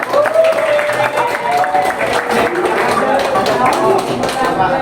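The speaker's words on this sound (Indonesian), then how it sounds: "Kita berikan aplaus dulu dong buat kelompok 2" Classroom applause for a student group as they come to the front, a steady wash of many hands clapping at an even level throughout, with voices talking over it.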